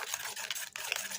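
Homemade soap mixture being stirred in a bowl after vitamin E capsules are added, a brief, soft run of continuous swishing and scraping strokes.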